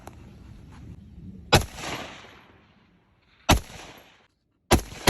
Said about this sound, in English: Now watch this. And watch the muzzle for 2 or 3 rounds.